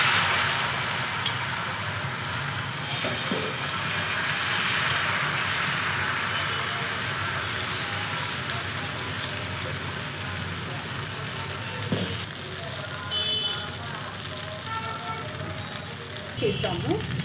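Ravva dosa batter cooking in oil on a hot pan, giving a steady broadband sizzle that fades slightly over time, with faint clinks and light background noise.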